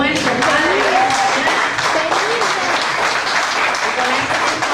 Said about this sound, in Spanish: Levantamos ofrendas de aplausos para nuestro Padre.